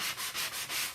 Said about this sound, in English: Some of you are like, oh my God, she's sanding on her glass mat.